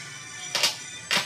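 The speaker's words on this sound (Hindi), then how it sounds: "ये देखिए उन्हीं सर का फ़ोन आ गया है" A mobile phone rings with an incoming call in a kite-packing shop: two short, bright bursts of ringing, fairly close, with no talk.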